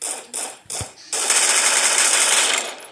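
Rapid bursts of submachine gun fire in the Free Fire battle game: three short volleys, then a longer sustained stream of loud automatic shots.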